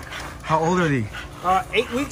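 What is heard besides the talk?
Exotic Bully puppies whimpering and yipping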